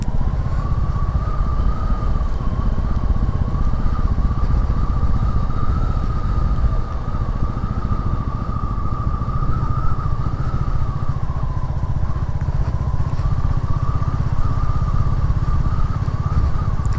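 Royal Enfield Classic 350 single-cylinder motorcycle cruising along rough, little-used roads, a steady, loud engine drone with constant wind rush throughout.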